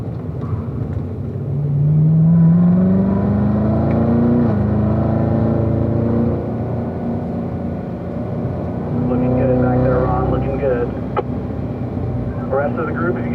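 A Corvette on a race track drones loudly and steadily, its engine pitch rising and falling through gear changes, with a driver talking over the continuous rumble.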